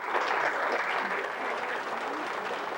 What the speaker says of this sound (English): You could hear the applause beaming out to space.